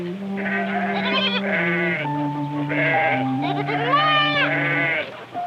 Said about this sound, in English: a goat herd is returning to the village